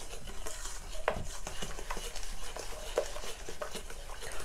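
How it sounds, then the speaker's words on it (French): Boiling milk is stirred into an orange dessert cream mixture, giving a continuous close scraping, swishing sound with occasional small knocks against the bowl; no speech. "Je mélange avec le lait."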